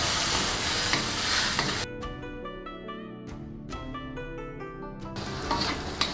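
Cucumber seasoned with pepper powder, oyster sauce and a little hot water sizzles in a frying pan as it is stirred, with soft scraping and a steady frying hiss under quiet background music.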